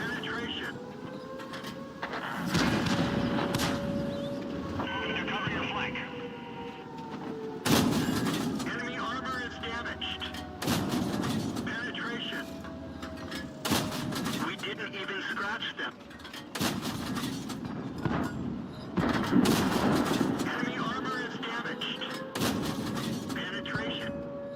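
Tank guns boom in World of Tanks, several heavy blasts spread through the clip over rumbling engine drone, with someone talking over much of it.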